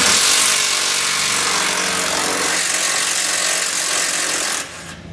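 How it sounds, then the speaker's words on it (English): A 15mm socket on a power tool loosens the nuts holding a factory jounce stop, giving a loud, close, continuous rattling buzz that stops abruptly near the end, with no voices. "So we want to grab a 15mm socket. We're going to pull both of those nuts out"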